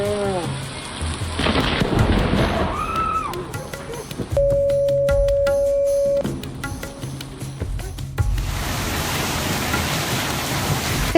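Thunderstorm with a lightning strike amid steady rain, a heavy rumbling crash early on, then sharp crackling bursts and a tonal hum before the rain hiss continues.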